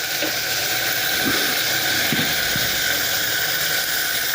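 Bitter gourd fries in hot oil with a steady, broad hiss. A few faint taps of stirring sound underneath and no voice is heard.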